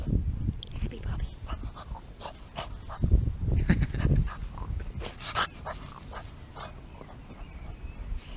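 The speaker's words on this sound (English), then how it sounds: "Dog again." A puppy pants and whimpers close by, with soft breathy huffs and small whines mixed with handling noises while people talk over it.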